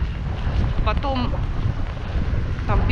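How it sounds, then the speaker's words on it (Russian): Strong wind buffets the microphone on a winter street in Magadan, a steady rumbling roar throughout, with brief faint voices or calls breaking through. "Какой ветер, пипец."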